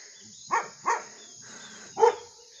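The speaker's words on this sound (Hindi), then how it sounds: "और ये इनके 2 कुत्ते हैं।" Two dogs barking in a hillside village yard, a few sharp barks spaced apart, moderately near, with a steady insect-like hiss in the background.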